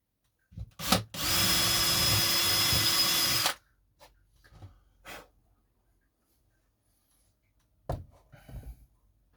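A power drill whirs loudly and steadily for about two seconds while working on a model railway fiddle yard, preceded by a couple of short bursts and followed by quiet shuffling and handling noises.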